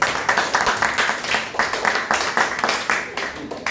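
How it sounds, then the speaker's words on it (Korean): An audience claps after a student project demo on crop price prediction, steady dense clapping with rhythmic surges throughout, close and fairly loud, with no one speaking over it. "박수 한번 주세요"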